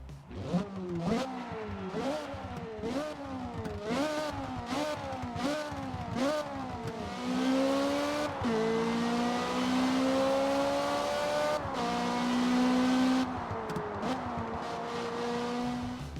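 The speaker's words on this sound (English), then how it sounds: "And the Ferrari 430 Scuderia, which now sounds like this." A Ferrari 430 Scuderia in the Forza Motors video game snarls through a quick run of repeated throttle blips, then settles into a sustained, loud acceleration that climbs in pitch with a couple of gear-shift drops.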